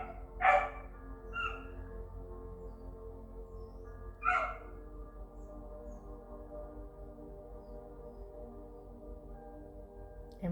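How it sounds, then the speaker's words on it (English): A pit bull outside giving a few sharp barks and whimpering yelps, three separate bursts in the first half, then quiet low background hum. "You might hear a bit of the dog crying."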